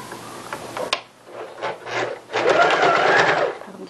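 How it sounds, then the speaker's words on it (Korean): Sewing machine stitching curtain fabric up close, with short bursts of rapid needle clatter, a sharp click, then a longer steady run of stitching toward the end. "박음질 해주시고요."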